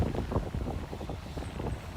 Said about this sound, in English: Oh my goodness, it is very windy.